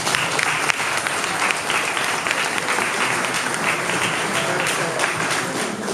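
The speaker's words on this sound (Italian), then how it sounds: "io adesso voglio rompere il ghiaccio con un applauso agli autori" Sustained applause from an audience at an Italian book presentation in Partinico, steady dense clapping throughout, with some murmured voices beneath.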